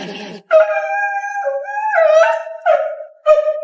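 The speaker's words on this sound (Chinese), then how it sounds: "怎么有只小狗呢？" A small dog gives a string of high, tonal yelps and whining howls, several short cries in quick succession, close and clear with no other sound around them.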